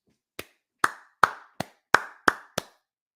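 Seven separate hand claps in applause at an irregular pace, each a sharp crack with a short decay, fairly close and alone with no voices.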